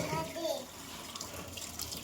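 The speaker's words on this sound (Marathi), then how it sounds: "भांडे घासतो." Tap water runs into a kitchen sink as a child washes dishes at home, a soft steady splash heard briefly and fairly quietly.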